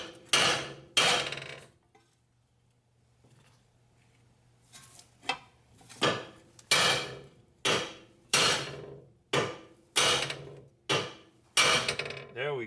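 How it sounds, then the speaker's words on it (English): Repeated hammer blows knocking a control arm down on a Nissan Murano during wheel bearing and drive axle work, about ten sharp metallic strikes spaced roughly a second apart after a quiet pause, close and loud. "I'm gonna hold the knuckle up here while I'm tapping on the control arm"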